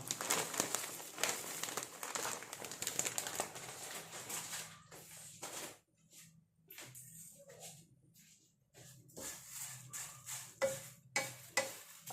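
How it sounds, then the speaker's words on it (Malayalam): Red flattened rice (matta aval) dry-roasts in a pan, giving soft crinkling and scraping stirs that come in bursts with quieter gaps between them. "അവൽ വേഗം ആയിക്കോളും വറുക്കുമ്പോൾ"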